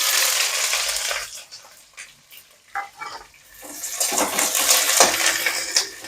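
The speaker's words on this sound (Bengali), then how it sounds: "এবার আমি পেঁয়াজ কুচি দিয়ে দেবো" Chopped onions tumble into a hot pan of browned garlic, setting off a loud, steady sizzle that swells and fills the second half after a scraping, clattering start.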